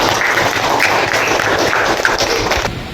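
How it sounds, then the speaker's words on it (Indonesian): A classroom of students claps for a classmate, a dense, steady patter of many hands close by that fills the whole moment before tapering off at the end. "Tepuk tangan untuk teman kalian Kemas"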